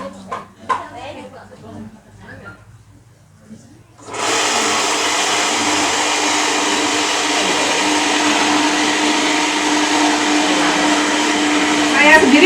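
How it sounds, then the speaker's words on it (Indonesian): Speech and quiet kitchen sounds come first, then a blender starts up loud, grinding soybeans for soy milk with a steady, close motor roar to the end. "Ya kita mulai untuk menggiling kedelainya"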